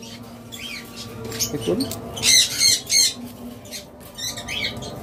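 Cockatiels and lutino red-eye birds call in bursts of squawks and chirps amid a busy bird shop, with someone speaking briefly over the chatter.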